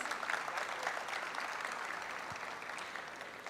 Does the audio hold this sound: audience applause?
yes